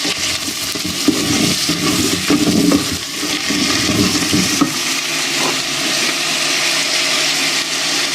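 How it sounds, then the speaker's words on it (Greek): Chopped onion is tipped into a hot pan with sautéed shrimp and sizzles loudly for a few seconds with stirring, then settles into a steady, softer frying hiss. "Ρίχνω πρώτα το κρεμμύδι να καραμελώσει."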